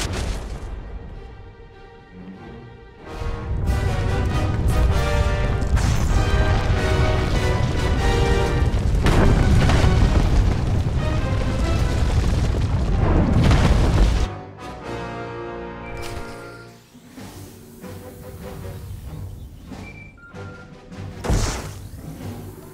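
An explosion in the video game Star Wars: The Old Republic: a loud, sustained roar of booming rumble that lasts about ten seconds before dropping to a quieter tail of scattered tones and thumps.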